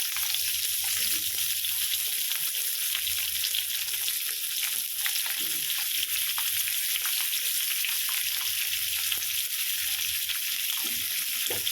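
Three chopped onions fry in a pan for paneer butter masala, a steady dense sizzle running the whole time with occasional stirring scrapes and faint watery clinks, no voices.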